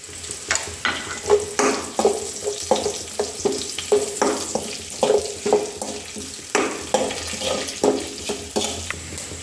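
Grated coconut and curry leaves frying in a pan for a soya chunks bhaji, with a steady sizzle and repeated spoon stirring and scraping strokes at a regular rhythm, close and moderately loud, with no talk.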